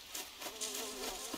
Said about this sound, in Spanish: Aquí suena algo de moscas.